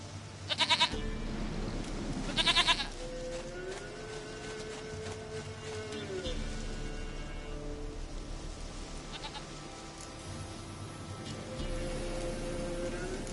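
Goat in a video game: two short, loud bleats close together near the start, then quieter ambient game sounds with faint, softer bleats further on.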